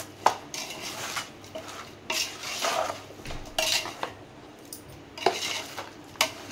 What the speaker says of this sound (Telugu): బాగా కలిపి ఫస్ట్ ఉప్పు, గరం మసాలా, అల్లం ఎల్లిగడ్డ వేసి బాగా కలుపుకోవాలి